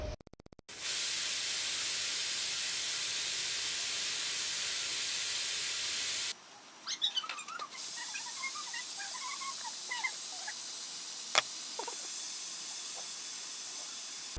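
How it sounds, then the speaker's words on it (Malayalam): A loud, steady hiss of steam escaping a pressure cooker cooking sambar, then a softer hiss with scattered faint clicks and pops. "അടച്ചു ആവി വരാൻ തുടങ്ങിയിട്ടുണ്ട്."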